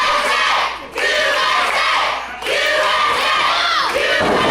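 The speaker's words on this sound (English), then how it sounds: "Crowd with the USA chant." An independent pro wrestling crowd chants in loud rhythmic unison, repeated bursts of massed voices with brief dips between them, close and echoing through the venue.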